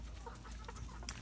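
Chickens in a large outdoor run beside their coops, with soft clucks and scattered bird calls coming and going over a steady low background hum, fairly close and fairly quiet, no voices.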